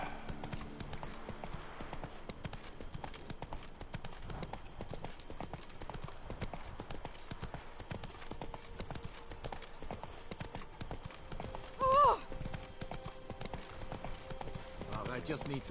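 Steady rhythmic hoofbeats as Roach the horse trots in the Witcher 3 video game, a continuous clip-clop at moderate level, with a brief whinny-like tone near the end.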